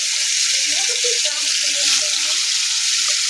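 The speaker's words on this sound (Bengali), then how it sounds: "এখন তাওয়ায় বসিয়ে দিলাম ভাজার জন্য। এঁচড়গুলো ভালোভাবে ভেজে নেব।" Young jackfruit pieces frying in hot oil on a tawa give a loud, steady, hissing sizzle that continues without a break, with faint talk underneath.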